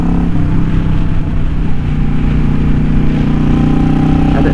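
A motorcycle with eBay Emgo-style cocktail shaker exhaust pipes runs steadily at idle, a loud close low rumble that holds constant throughout with no talk.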